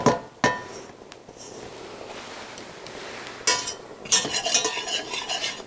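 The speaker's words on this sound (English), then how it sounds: "Once we add the arrowroot, we have to stir because it starts to combine with the garlic rather quickly." A whisk works arrowroot into garlic in a pan, producing close scraping and stirring with metallic clinks. Sharp taps open the stretch, and a brisker, louder burst of whisking comes near the end.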